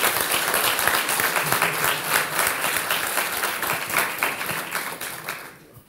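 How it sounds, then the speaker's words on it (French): Conference audience applause rises as dense, sustained clapping from a crowd, then tapers off and fades out at the end. "Vous pouvez les applaudir."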